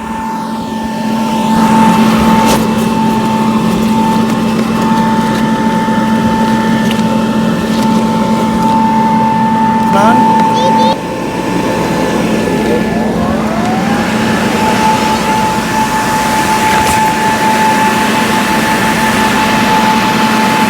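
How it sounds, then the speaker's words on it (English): An electric blower, one of a 950W and 550W pair, inflates a large 26 by 13 foot inflatable paint booth with a loud, steady close-up roar and a constant tonal whine that shifts pitch partway through. "Let's set up the second blower."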